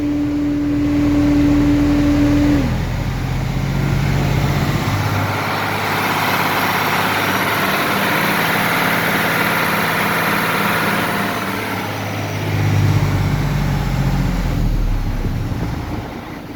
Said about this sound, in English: Good, strong running engine.